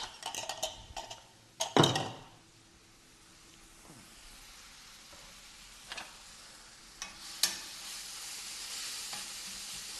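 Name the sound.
mushrooms and shallots sautéing in a pan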